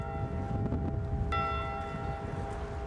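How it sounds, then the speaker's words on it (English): A single clear strike of a ship's bell rings out and sustains with a long, resonant tone over a low background rumble. "they will once again ring the ship's bell 29 times to honor them"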